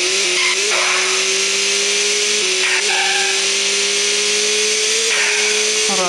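A car engine droning steadily in the mobile game Skiddy Car, a loud continuous buzzing whine that shifts pitch briefly a few times as the car drives, with brief speech faintly present.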